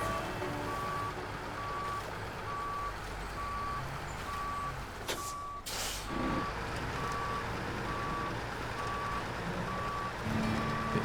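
Reversing truck in the off-road driving game SnowRunner emits a steady, evenly spaced series of electronic backup beeps over a continuous engine rumble, with a brief air-brake hiss midway.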